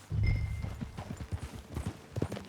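Horse hooves clip-clop on the ground in the Red Dead Redemption 2 video game, a steady rhythm of close, moderately loud hoofbeats continuing throughout.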